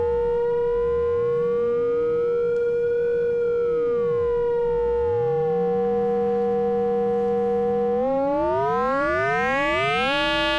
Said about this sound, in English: And you can hear how those FM sounds create sort of clangorous timbres.